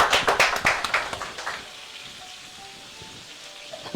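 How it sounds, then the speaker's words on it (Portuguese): A short burst of audience clapping during a live stage show, with sharp, distinct claps for about a second and a half before they thin out and leave a quiet room. "um aplauso para você"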